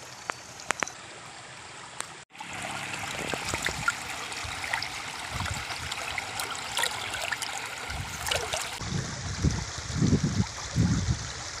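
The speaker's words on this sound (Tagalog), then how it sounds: "nandito na tayo sa ilog" A river flows steadily nearby in a gold-panning spot, a continuous rushing trickle with a sharp knock early on and some splashing and gurgling toward the end, no talk.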